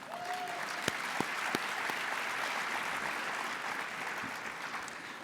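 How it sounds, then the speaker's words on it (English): Steady applause from a conference audience at a builders show, filling the room evenly for several seconds with a few sharper claps standing out near the start, then holding at a constant level. "Let's give them a round of applause."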